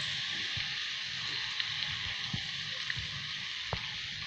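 Dal vada deep-frying in hot oil, a steady close sizzle and crackle with faint pops throughout, no speech.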